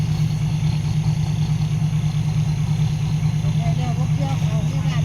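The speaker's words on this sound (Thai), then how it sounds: "เสียงรถเกี่ยว" A rice harvester's engine idles close by, a steady, droning low continuous rumble with a faint mechanical hum running unchanged throughout.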